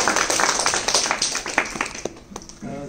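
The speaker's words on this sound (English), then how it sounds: "let's give a nice warm round of applause for Luca!" An audience at a university presentation gives a burst of hand-clapping that starts strong and thins out toward the end, ending in a brief quiet gap.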